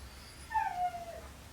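Percy the dog cries at the bottom of the stairs, a single drawn-out whimpering howl that rises and trails off, heard faintly from some distance over a low background hum.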